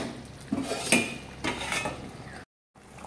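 Metal utensil stirs fish-head muri ghonto with rice in a pot over a gas flame, giving a few scraping, clinking strokes and soft sloshing at close range, then a brief silence before stirring resumes.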